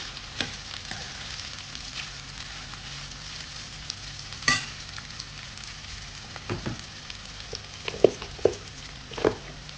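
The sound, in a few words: onions and green chillies frying in a pan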